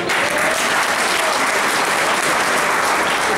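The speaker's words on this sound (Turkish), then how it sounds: "biraz fazla alkışlayın" A large audience gives loud, continuous applause at an evening show, a dense uniform wash of clapping with no break.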